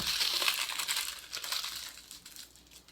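Paper crumpled by hand into a small ball about the size of a dime, with dense crinkling and crackling that is close and fairly faint, then eases off toward the end.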